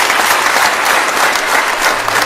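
Loud, dense clapping from a church congregation at a Catholic gathering in Kibeho, sustained and even throughout with no speech over it.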